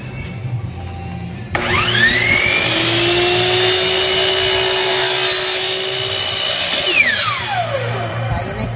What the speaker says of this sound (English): just cut it with a jigsaw